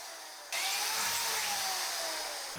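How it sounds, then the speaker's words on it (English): A power drill boring a hole for a lock in sheet metal on a heavy-duty workshop cart starts abruptly and holds a loud, steady whine with a slowly falling pitch, close and alone. "Drill a hole for the lock."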